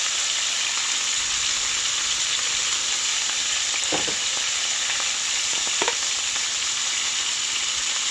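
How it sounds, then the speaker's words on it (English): Chicken seasoned with Italian seasoning, pepper and chives stir frying in a greasy pan, a loud, continuous close sizzle with a couple of brief stirring knocks midway. "I'm just going to stir fry that."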